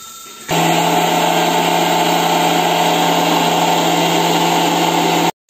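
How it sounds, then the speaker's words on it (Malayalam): An electric mixer grinder whirs up half a cup of coconut with water, starting abruptly with a loud, steady motor drone that holds evenly for about five seconds before cutting off. "ഫ്രൈ ആകുന്ന നേരത്ത് നമുക്ക് കുറച്ച് തേങ്ങ മിക്സിയിലിട്ട്"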